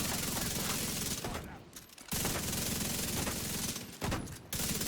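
Sustained automatic gunfire in the video game The Division, loud and continuous with two brief gaps, dense rapid shots filling the whole clip.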